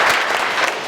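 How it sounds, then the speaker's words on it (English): Applause from an audience of fifth and sixth grade boys and guests at a mentor group orientation, a brief burst of dense clapping in a room. "Give your mentors a big round of applause"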